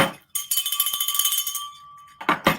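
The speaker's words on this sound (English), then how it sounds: "Did you bring the bell?" A handbell is rung near the microphone, a bright rapid jangle of clapper strikes with a sustained ringing tone lasting about two seconds, followed by a brief voice.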